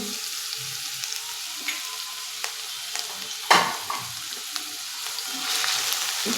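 Finely chopped onion with crushed ginger and garlic frying in oil over a medium gas flame for egg bhurji, a soft steady sizzle broken by occasional scrapes and stirring clacks, one sharper knock midway, close with no voices.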